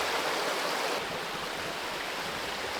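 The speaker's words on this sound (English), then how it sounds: "We took in the sound of running water" Running water from a stream in Puck's Glen, a wooded Scottish valley, makes a steady broadband rush that stays close and constant throughout, with no voices.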